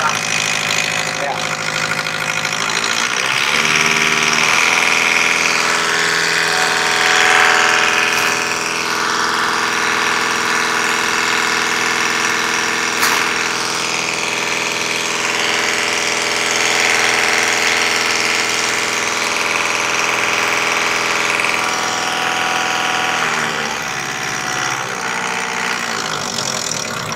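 A Mitsubishi Canter truck's diesel engine runs steadily at a loud, rough idle, its pitch rising slightly as it revs, with no speech.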